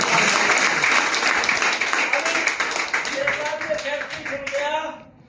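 An audience claps at a business meeting, with brisk, dense applause that fades out near the end as a voice talks and music plays underneath.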